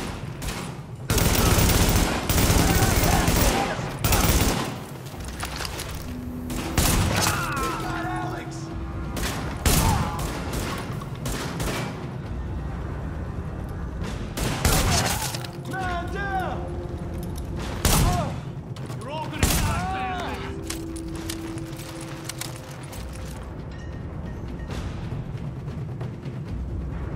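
Heavy gunfire from a rooftop gunner in a video game, with rapid bursts of machine-gun fire and loud shots repeating in clusters across the scene, plus intermittent voices and in-game sounds between volleys.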